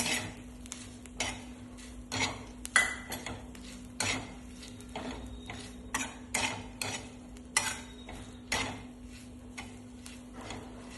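Green chillies with a pinch of salt roast in a pan over medium heat, stirred with a utensil that scrapes and clinks against the metal in irregular close taps over a low background hum.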